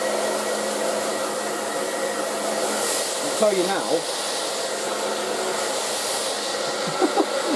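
An aqua ETI Professional Turbodryer 2000 hairdryer blows hot air in a loud, steady close-up roar with a constant whine, while someone talks over it.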